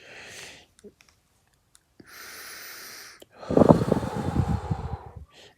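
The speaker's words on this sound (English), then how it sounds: "Deep breathing." Slow, deep human breathing: a long airy exhale, a pause, a long inhale, then a heavier, raspy breath out with a slight rattle, all close and intimate.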